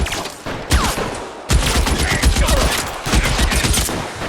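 Rapid bursts of gunfire in the video game L.A. Noire, loud clustered volleys of shots that crack and rattle in quick succession with brief pauses between salvos.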